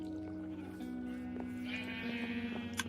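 Sheep in the Minecraft video game bleat a few times beside a wool farm, the calls moderately close over a steady droning background, with a sharp click near the end.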